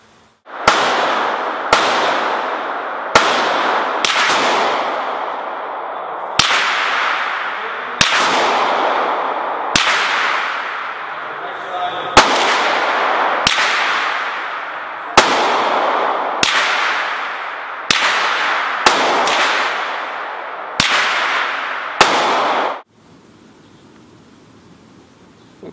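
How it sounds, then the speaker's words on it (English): Suppressed 9mm supersonic FMJ rounds fired one at a time, about fifteen loud, sharp cracks at uneven intervals of one to two seconds, each with a short outdoor echo tail, then quiet. "no suppressor can do anything about the sound of a bullet passing through air, so you're gonna hear a bit of a crack."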